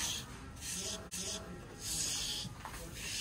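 A large brush is drawn through a dog's coat in repeated rhythmic strokes, a soft scratchy rubbing hiss that swells and fades with each pass, close and quiet.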